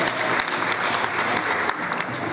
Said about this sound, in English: Let's give him another round of applause, ladies and gentlemen.